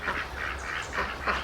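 Several honking calls from geese or ducks in a loose repeating rhythm, moderately close, with steady low background rumble and no talking.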